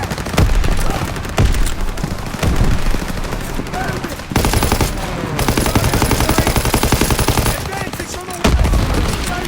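Dense, continuous machine gun bursts and gunfire in a Call of Duty: WWII battle, with loud blasts cutting through the rapid chatter and shouted voices mixed in.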